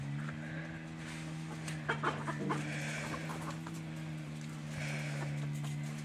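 Hens cluck softly over a steady low hum, with a few brief louder clucks and rustles in the middle and near the end, fairly close and mostly without talk.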